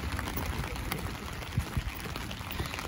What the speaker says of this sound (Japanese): すんげえ雨降ってる。